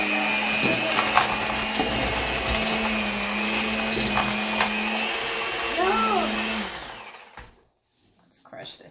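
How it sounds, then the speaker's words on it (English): Electric hand mixer whirring steadily while beating packed brown sugar in a baking session, a loud continuous motor drone with a faint voice underneath, stopping near the end and leaving near silence. "All right, let's get the hand mixer in."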